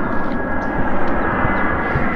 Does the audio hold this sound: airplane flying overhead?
yes